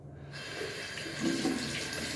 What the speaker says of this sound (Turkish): Tekrar ılık suyla yıkıyorum.